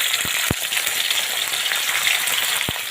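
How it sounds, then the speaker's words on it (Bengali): Bata fish fry in well-heated oil in a wok, a loud steady sizzle with a few sharp clicks and pops as pieces go in, no voices. "এবার একে একে মাছগুলো আমি ছেড়ে দেবো।"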